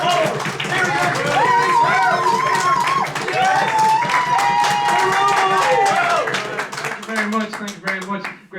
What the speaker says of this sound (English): Please, a round of applause for Carol.